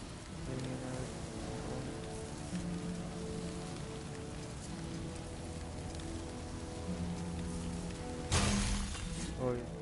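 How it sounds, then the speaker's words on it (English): Rainfall in the video game God of War Ragnarok, a steady patter of rain on surfaces beneath tonal game music, with a louder splashing burst near the end; no speech. "Oh, it's raining."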